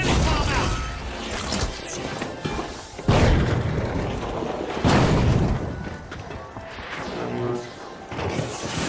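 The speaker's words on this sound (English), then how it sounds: "Vanish bomb out." A vanish bomb detonates in an online video game, a heavy boom and crashing burst among repeated impacts, with a voice talking over the chaotic action.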